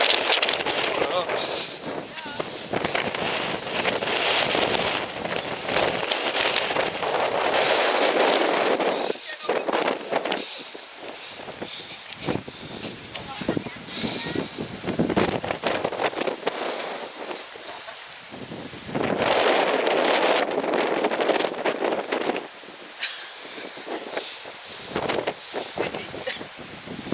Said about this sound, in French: Je peux te garantir qu'il y a du vent.